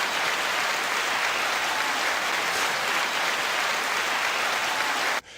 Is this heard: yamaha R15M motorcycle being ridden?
no